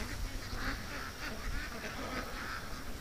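Ducks on a farm quack in a steady overlapping chorus, close and continuous throughout the short stretch.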